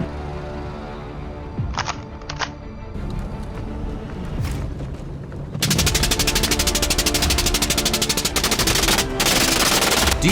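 Rapid bursts of automatic gunfire crack through a forest during a wild boar hunt, scattered shots at first, then a loud, dense volley rattling continuously near the end, with no voices.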